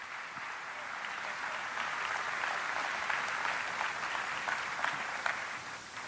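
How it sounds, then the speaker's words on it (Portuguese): An audience at a religious gathering applauds to welcome a rabbi onto the stage, with sustained, even clapping that rises a little and holds steady throughout, at moderate loudness from a room full of people. "eu quero que você receba com a salva de palmas nosso rabino"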